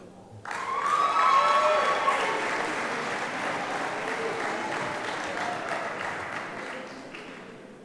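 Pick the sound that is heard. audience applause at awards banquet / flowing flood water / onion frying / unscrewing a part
audience applause at awards banquet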